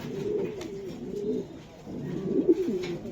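Racing pigeons cooing close by, several soft throaty rolling coos in quick succession with a brief pause between bursts, with no talking.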